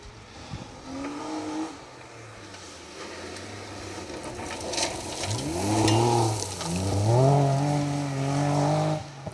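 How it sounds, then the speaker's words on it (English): A straight-six BMW 325i rear-wheel-drive rally car on a rally stage, its engine approaching and revving hard through rising gear pulls, growing louder toward the end with faint tyre noise, no voices. "That's what you do with a big power rear-wheel drive BMW."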